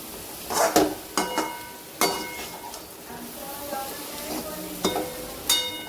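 Bell peppers are stirred and sautéed in spiced oil, a steady sizzle broken by sharp clinks and scrapes of a spoon against the pan, close up, with a few quiet bursts of talk.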